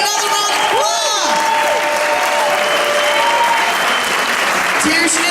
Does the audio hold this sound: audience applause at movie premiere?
yes